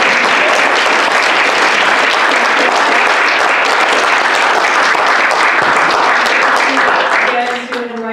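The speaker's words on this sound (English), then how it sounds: "let's have another round of applause" Dense, loud round of audience applause at a library coffee-and-conversation event, sustained for about seven seconds before thinning as a voice begins speaking.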